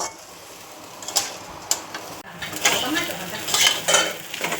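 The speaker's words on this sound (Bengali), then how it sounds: "এখন চালটাকে কিছুক্ষণ ধরে ভাজবো।" Raw rice being stirred and fried in a pan for pulao, with metal utensil scrapes and clinks over a soft sizzle, the stirring growing busier and louder toward the end.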